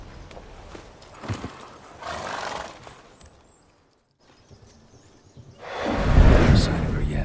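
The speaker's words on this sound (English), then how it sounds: "Whoa there, Roach." A horse in the video game The Witcher 3 gives a loud, close neigh and snort near the end, preceded by quieter movement sounds and a voice.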